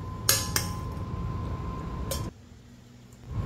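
Banana cake batter being mixed with the flour mixture produces a steady close scraping of a utensil in a bowl. Sharp metallic clinks break in near the start and again midway, then the mixing stops abruptly and the clip falls quieter.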